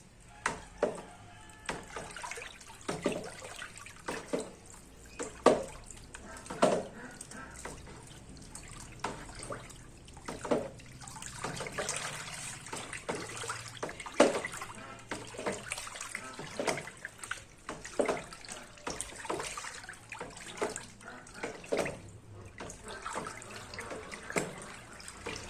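Liquid fabric softener mixture being poured in a thin stream and stirred in a large batch of homemade scented softener, giving steady watery trickling with repeated sharp splashing and stirring knocks, close and moderately loud, no talking.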